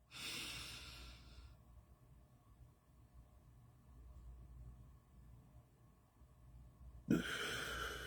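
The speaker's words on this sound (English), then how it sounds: "One more deep breath in." A slow, deep breath in and out taken during a guided moment in a spiritual community gathering, a soft airy rush at the start and another sharp exhale near the end over quiet room hiss.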